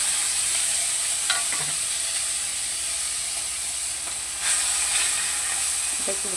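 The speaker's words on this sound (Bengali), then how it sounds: "এবার দেখো ওই তেলের মধ্যে এবার এই কুচো চিংড়িটাকে একটু ভেজে নেবো" Small shrimp fry in oil in a pan, giving a loud, even hiss of sizzling with a few faint scrapes and clinks, and nobody speaking.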